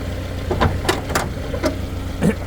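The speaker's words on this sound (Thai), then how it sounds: "นี่ฮะเครื่องยนต์เดินนิ่งนะฮะ" A 1996 Mazda Familia Maxicab pickup with a 1.4 engine and a rebuilt carburettor idles steadily and close by, a low even hum with a light rhythmic ticking on top.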